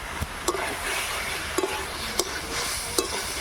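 Ground cumin and chili powder are stirred in a hot pan, with a steady sizzle running throughout and about six sharp scrapes and taps of the spoon against the pan at uneven intervals.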